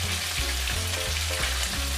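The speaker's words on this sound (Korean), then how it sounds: "나머지 치즈 두부가스도 튀겨주겠습니다" Cheese tofu cutlets deep fry in hot oil with a loud, continuous sizzling crackle, close up and steady with no voices.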